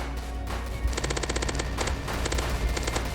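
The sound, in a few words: minigun firing at zombies in video game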